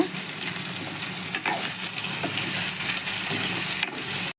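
Capsicum hits a hot pan for masala Maggi noodles and fries with a loud, continuous close sizzle, broken by a few knocks and stirring clatters.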